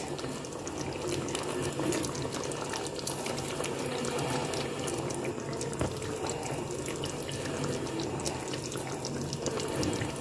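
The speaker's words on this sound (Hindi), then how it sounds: "अब इस टाइम पे हम डालेंगे नींबू का रस" Lemon juice streams into a pot of fried whole spices for chicken curry, giving a continuous watery splash and sizzle with small scattered crackles throughout.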